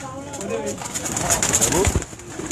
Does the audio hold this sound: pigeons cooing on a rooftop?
yes